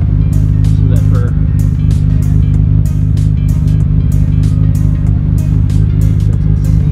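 A loud, steady Nissan Skyline R34 GT-R engine roars with a deep, sustained rumble throughout, revving under brief bursts of higher noise.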